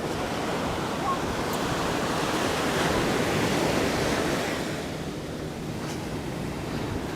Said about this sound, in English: Check out them waves out on the beach.